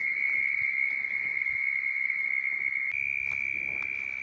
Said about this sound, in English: this is God's orchestra right here. Frogs are loving it, right?